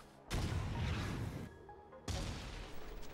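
Two rocket launcher blasts in the video game Foreign Legion: Multi-Massacre, each a sudden deep booming explosion with a rumbling decay, the second arriving after a short gap, with no voices.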